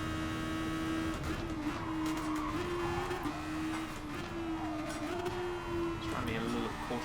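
A race car engine howls around Suzuka in GT Sport, a continuous droning note that wavers with throttle, with someone talking over it throughout.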